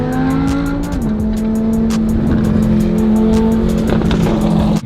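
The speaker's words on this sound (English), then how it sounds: "Stop the revving." An Audi R8 engine on a supercar rally drones loud and close in a steady, sustained note that dips once in pitch, with rapid ticking pulses running over it.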